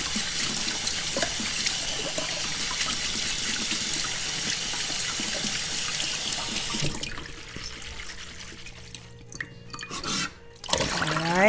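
Tap water runs hard into a sink while boba-making gear is rinsed and washed out, a steady close rush that cuts off partway, followed by scattered drips, clinks and handling noises.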